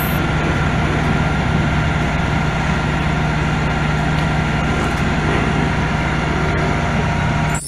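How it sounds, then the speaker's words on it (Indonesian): A septic tank suction truck runs with a loud, steady, low engine and pump drone that holds unchanged from start to finish, with no voices over it. "selanjutnya ada mobil penyedot WC"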